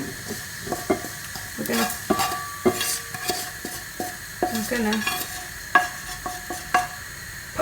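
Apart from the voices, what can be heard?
peppercorns crackling while toasting in a pan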